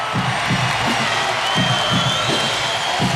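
A crowd of about 5,500 at a Hawaii Rainbow Wahine women's volleyball match against Oregon roars after a kill, a loud, dense, sustained wall of cheering with rhythmic stomping or clapping pulses underneath.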